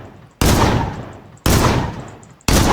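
Three loud, evenly spaced gunshots from a gun in the Roblox game ER:LC. Each shot cracks sharply and then decays over about a second, with no talking over them.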